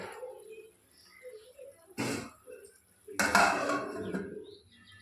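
A pot lid is set down over pumpkin-greens curry with a sharp metallic clatter, followed by a longer rattling scrape of metal cookware against a quiet kitchen background.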